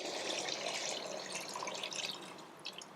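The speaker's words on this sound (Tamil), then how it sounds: "இப்போ வந்து கலந்து வச்ச தண்ணியை நம்ம ஊற்றி ஊற்றிடலாங்களா" Water pours into a pot of rice being cooked with chicken, a steady splashing stream with dripping that runs continuously and close, then tapers and stops abruptly at the end.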